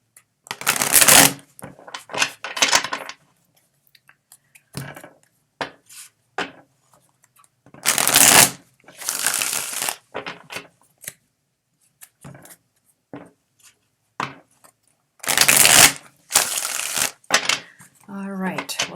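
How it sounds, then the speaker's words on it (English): Witch's Tarot cards are shuffled in several close, crisp riffling bursts separated by short pauses, with a few light handling taps in between. "Give it a good shuffle."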